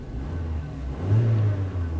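A Mazda car engine running rich with the mass airflow sensor disconnected idles steadily, then revs up smoothly for about half a second before settling back to a low idle; no talking.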